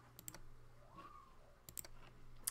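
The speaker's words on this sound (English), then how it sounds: "we are going to click here on the render button" Faint, close mouse clicks on a computer, a quick pair near the start and another cluster later, over a quiet room hum.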